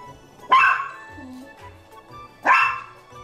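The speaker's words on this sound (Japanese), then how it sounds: "カメに対してすごいね、吠えるんだよね。" A dog barks angrily at new pet turtles, two loud, sharp barks a couple of seconds apart, with a softer whine and faint sounds between them, close to the microphone.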